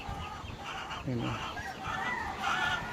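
Shamo gamefowl chickens clucking and crowing in a backyard flock, several birds calling close by with overlapping clucks and a short crow, under a man's brief speech.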